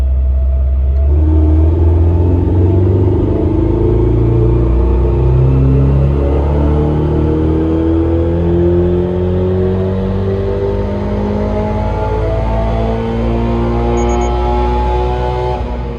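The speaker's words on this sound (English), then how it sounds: "this is what the car sounds like with the parent catback, the Borla UL, and our intake on there" A 2022 Subaru BRZ fitted with a Borla catback exhaust and an aftermarket intake revs hard on a dyno, its engine note climbing repeatedly in loud, close, sustained pulls with a deep rumble underneath.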